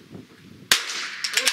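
A rifle shot at an NRL22 rimfire match: a single sharp crack from near range, followed by a few faint, brief clanks of the bullet striking a steel target downrange, after quiet ambient noise.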